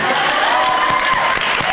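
Crowd applause from an audience at a literary panel event, a brief burst of dense clapping heard at a steady level with voices mixed in.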